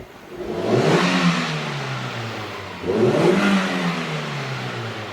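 A car engine revs twice with the throttle, each rise in pitch surging loudly and then easing back down, close by.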